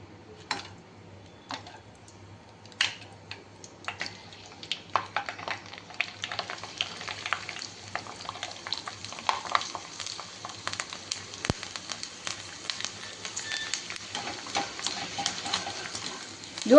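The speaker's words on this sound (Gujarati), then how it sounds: "ચાલો હવે આપણે તળી લઈએ." Sabudana chakli frying in hot oil, giving faint, scattered crackles and ticks that grow busier over time, heard close and alone.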